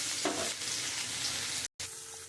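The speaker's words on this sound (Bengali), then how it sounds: "আমি ওর মধ্যে আমি একটু আদা বাটা আর এখানে রসুন একসঙ্গে আমি এটা দিয়ে দেবো" Ginger and garlic paste frying in a pan, a soft, faint sizzle with a brief burst of stirring near the start and a momentary dropout, no voices.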